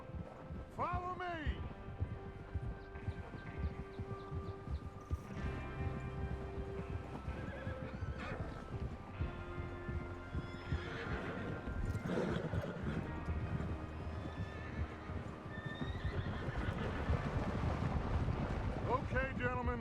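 Horses in the Red Dead Redemption 2 video game whinny and snort near the listener with clip-clop hooves underneath, among wind and other game sounds, while voices talk intermittently over the scene.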